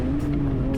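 A BMW 128i race car driven hard on a track through a fast corner, its engine a steady, loud sustained drone close up with faint tire noise, no pauses across the short stretch.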